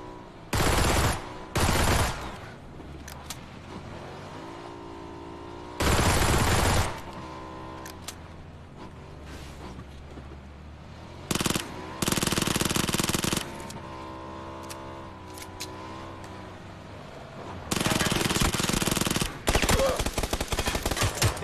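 Gunfire in a shooter video game, with an SMG and a pistol in play: loud bursts of automatic fire break out in several separate volleys, with quieter game sounds and music filling the gaps between them.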